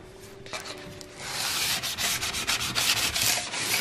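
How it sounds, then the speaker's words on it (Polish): Rhythmic rasping of sandpaper rubbed by hand over a wooden bookshelf, close and steady, with repeated back-and-forth strokes after a brief quieter start. "Wystarczy to przejechać papierkiem ściernym."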